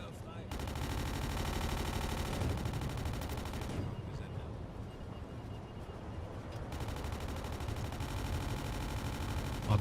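Guns on a WWII U-boat in a naval video game fire at an aircraft off Halifax in September 1944: loud, dense, continuous rapid gunfire that eases briefly in the middle, then resumes at full intensity.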